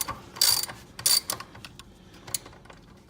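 A ratchet clicks in short irregular bursts while turning a 3/8 socket on the oil drain plug of a Toro self-propelled lawn mower, close and crisp, with quiet gaps between the clicks.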